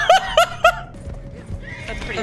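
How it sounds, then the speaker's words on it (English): A horse in the video game Red Dead Online gives three loud, close, quick neighs in a row, followed by voices talking over low background game noise. "Horse!"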